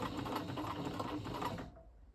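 A Janome/New Home Model 702 sewing machine stitches steadily with a fast, even mechanical whir, running alone for about two seconds before stopping abruptly.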